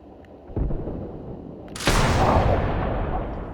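A vehicle-mounted gun in the Arma video game fires one heavy, booming shot that leaves a long rumbling tail, after a softer thump a second earlier.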